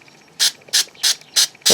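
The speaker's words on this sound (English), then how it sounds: "I'm going to spray these with a little bit of Spray" Five short, sharp bursts of 3M Super 77 spray adhesive hiss from an aerosol can at even intervals, close and loud, with near silence between them.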